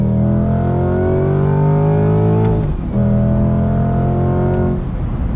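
A 2020 Chevy C8 Corvette Z51 roars hard under throttle, its engine note climbing steadily, dropping briefly at a gear change, then rising again, loud and close throughout with no one speaking.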